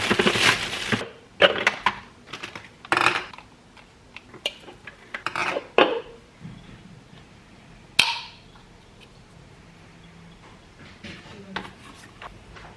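Eggs being handled and set into a pot on a stovetop in a home kitchen, with scattered clinks, knocks and scraping bursts of cookware at irregular intervals, close by and fairly loud, with quieter gaps between.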